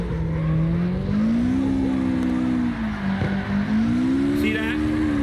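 A car engine drones and shifts pitch while drifting in the CarX Drift Racing Online video game, rising and falling steadily as the car slides, with faint tire noise and a voice speaking over it.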